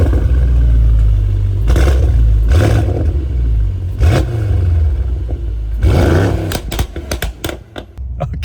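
A Mercedes E63S AMG with a custom exhaust starts and revs, a deep rumble broken by several loud rising throttle blips and crackling exhaust pops toward the end, close by.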